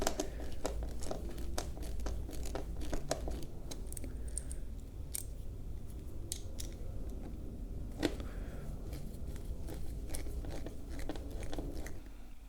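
Wood screws being driven to fasten the front piece of a Clark Pads Master Pro System, giving a steady run of crunchy, creaking scrapes and scattered sharp clicks that stay close and fairly quiet, with no talking.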